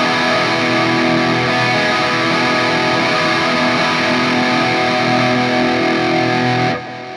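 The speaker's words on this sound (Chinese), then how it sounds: "这个预设声音就是一个丰满的失真音色" An electric guitar through the Hotone Ampero multi-effects unit on its opening "Welcome to Imperial" distortion preset plays a thick, full, heavily saturated sustained chord that holds loud for several seconds before cutting off, with no talk.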